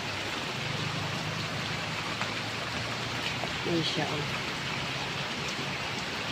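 Heavy rain pours steadily throughout, a dense hiss of water, with a person speaking briefly and softly over it.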